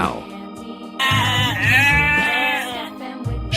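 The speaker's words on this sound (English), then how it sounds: "sheep" A sheep bleats loudly and close in one long wavering call, preceded by a softer shorter bleat, with no speech.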